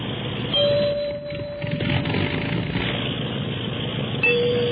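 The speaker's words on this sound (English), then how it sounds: "I strike a variety of notes on the musical glasses" Clear ringing notes struck on musical glasses, one sustained tone held for about two seconds and another sounding near the end, over a steady broadband engine-like drone.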